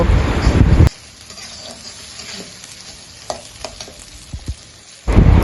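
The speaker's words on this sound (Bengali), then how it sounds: "এবার আমি মগজটাকে পেঁয়াজের সাথে খুব ভালোভাবে ভেজে নিব" Goat brain fries with onions in a pan, bursts of loud close sizzling and stirring at the start and end framing a quieter stretch of low bubbling with scattered spatula clicks, no voices.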